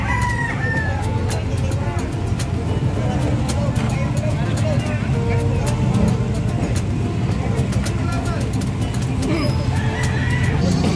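Native chickens and a rooster call amid a busy outdoor livestock market in San Carlos City, Philippines, with people talking nearby and steady background noise throughout.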